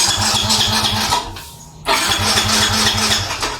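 A motorcycle engine is push-started: a steady running engine rumble with rhythmic pulsing, cut briefly to a near stop, then catching and running again loudly close by, with no talking.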